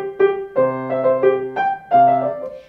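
Piano plays the opening of the first movement of Clementi's Sonatina Op.36 No.1: a bright melody over sustained chords, with clear note attacks in a steady rhythm and no voice.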